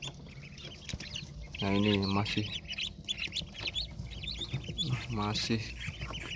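Freshly hatched hybrid meat ducklings, still wet from the incubator, giving bursts of high, thin peeping, two louder calls standing out over faint background chatter while a person speaks quietly nearby.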